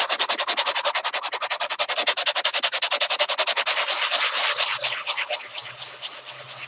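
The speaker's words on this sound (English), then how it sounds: "I'm trying to sand mostly in the surface because if I get it over here, then I'll take this paint off." Rapid, steady back-and-forth rasping of 60 grit sandpaper rubbed by hand over a solar light, loud and close, a continuous rhythmic scrubbing that loosens slightly toward the end.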